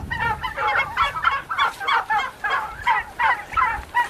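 Turkeys in a pasture poultry turkey schooner give a steady run of clucking, gobble-like calls about twice a second, close by and fairly loud with no talking.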